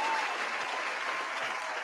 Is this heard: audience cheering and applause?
yes